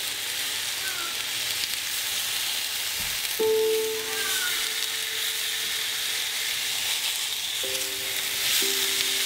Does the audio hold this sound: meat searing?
yes